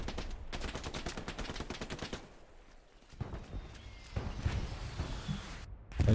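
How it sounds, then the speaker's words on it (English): Bursts of rapid machine gun fire in the video game Squad, a dense run of clattering shots, then a lull and more scattered mid-distance gunfire. "It's a lot of machine gun fire coming there."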